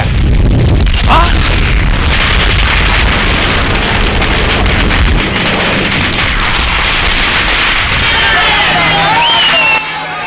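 Firecrackers burst in a loud, dense barrage at an outdoor gathering, sharp booms piling up over crowd noise and voices for about ten seconds.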